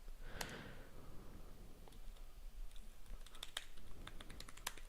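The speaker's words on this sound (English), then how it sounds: "I hear him typing away" Someone types on a computer keyboard during a Google Chat session, with quick irregular clusters of close, crisp key clicks over a low background hum, growing busier toward the end.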